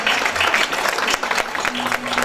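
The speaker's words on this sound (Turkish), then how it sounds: "Alkışlar devam etsin." Audience applause at a Turkish folk music concert, a dense and steady patter of many hands clapping throughout the short stretch with no voices over it.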